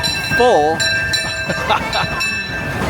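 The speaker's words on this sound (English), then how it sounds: "And that's our train at 2:15" Disneyland Railroad steam train pulling into the station, with a wavering whistle blast near the start followed by bell and rail clatter, under crowd chatter and a voice.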